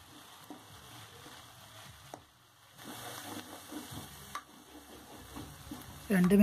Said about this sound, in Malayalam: അരിഞ്ഞു വെച്ചിട്ടുള്ള പച്ചമുളക് ചേർത്ത് ഒന്നുകൂടി ഇളക്കുക